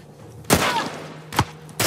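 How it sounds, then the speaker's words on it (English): Gunfire in The Last of Us: Left Behind, three loud, close, sharp shots spaced apart over quiet background hum. "Stop shooting me!"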